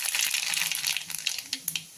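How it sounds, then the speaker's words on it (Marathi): Mustard seeds hitting hot oil in a pan for a red pumpkin bharda vegetable dish, a close burst of crackling and sizzling that thins into a few scattered pops. "हे आता मोहरी टाकू"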